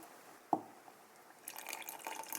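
Urine is poured into a container for a home gender prediction test: a single sharp drip or clink, then a quiet moment, then a soft, continuous trickling pour that runs to the end.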